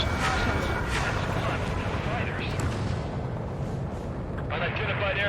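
Artillery and gunfire rumble from the Ace Combat 7 battle over a refugee road, a dense, continuous barrage of booms and rattling shots, loud and steady throughout with voices mixed in.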